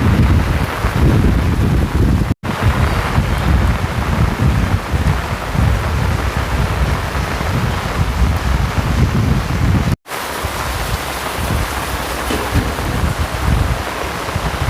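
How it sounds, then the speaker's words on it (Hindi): Heavy monsoon rain pours onto an umbrella on a street in Mumbai, a dense, loud, continuous roar with rumbling gusts and two brief dropouts, no voices. "और बारिश अभी तेज़ हो गई है, पूछो मत।"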